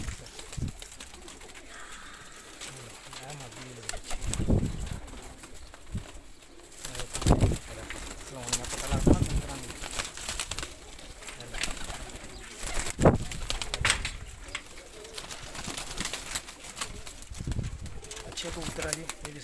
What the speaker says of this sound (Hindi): 25-26 कबूतर है यह,